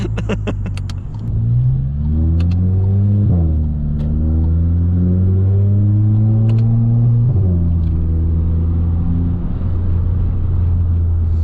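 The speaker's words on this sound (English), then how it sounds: "That's pretty much the only corner I have out here to push this car on." Volkswagen MK7 GTI with a hybrid turbo accelerating hard through a corner, engine note climbing through gears with distinct upshift breaks, loud and close from inside the car.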